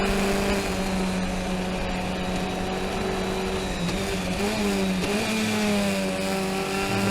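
Race car engine at Summit Point during a race, droning loud and steady from on board, with the pitch dipping and climbing at gear changes around the fourth and fifth seconds before settling back into a sustained roar.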